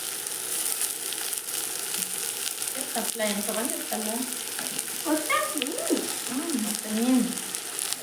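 Boiled legumes fry in hot oil with cumin and curry leaves, giving a steady, close sizzle throughout, with a voice or tonal sounds rising briefly over it midway.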